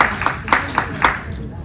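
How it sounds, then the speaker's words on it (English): A few slow, separate hand claps from one person at a virtual town hall, five evenly spaced sharp claps close to the microphone over quiet room tone. "I will applaud that one."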